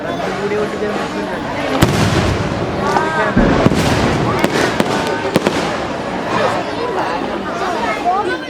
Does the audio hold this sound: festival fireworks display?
yes